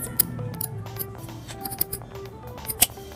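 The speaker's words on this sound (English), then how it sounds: "Like, just cut some excess." Scissors snipping off excess material while making small accessories for Littlest Pet Shop toys, a few close, irregular crisp cuts over a soft background.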